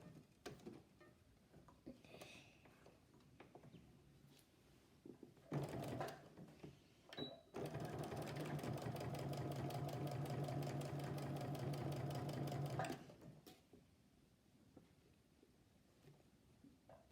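A sewing machine stitches the straps onto a child's homemade tote bag, with a few short starts followed by a steady, close run of rapid mechanical clatter lasting several seconds before stopping.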